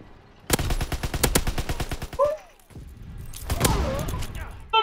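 Rapid automatic gunfire in Call of Duty WWII, a fast burst of close, loud shots followed by a pause, then another heavy volley with scattered echoing bangs during a tank escort battle.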